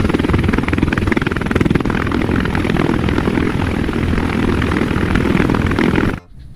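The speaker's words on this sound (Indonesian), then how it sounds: "helikopter." Toy helicopter noise, a loud continuous whirring rotor drone with a fast pulsing chop, running steadily for about six seconds before stopping suddenly.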